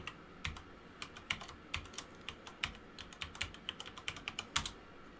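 A short run of about a dozen separate keystrokes on a computer keyboard as a password goes in. The taps come close and clear at an uneven pace over quiet room noise, with no talking.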